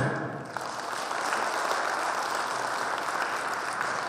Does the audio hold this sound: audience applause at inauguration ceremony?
yes